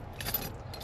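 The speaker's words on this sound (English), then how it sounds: "I don't think it came with enough keys." A bunch of car keys for a rolled Toyota jangles briefly and quietly outdoors in the cold, a light metallic rattle over faint low background noise.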